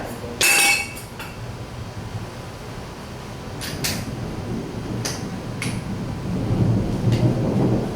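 Thunder rolls as a low, continuous rumble outdoors, with a few sharp cracks and clicks near the start and scattered through, heard at moderate distance while work on a VW chassis pauses.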